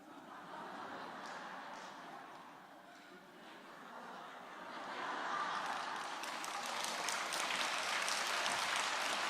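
A lecture-hall audience applauds and laughs together, a dense wash of clapping that carries on steadily and swells louder partway through, with scattered chuckles mixed into the crowd noise.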